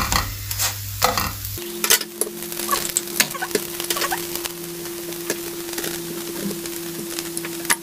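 Paratha cooking in a pan, soft sizzling under repeated scraping and tapping of a spatula, with a low hum running beneath most of it.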